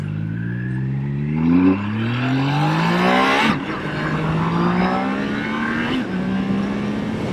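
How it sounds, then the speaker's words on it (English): Engines rise and fall as vehicles accelerate and shift through gears at a busy Iowa intersection, with a rising whine, sharp gear changes, then another surge, close and fairly loud, no talk. "This is Iowa's busiest intersection right here. Good grief, cars everywhere"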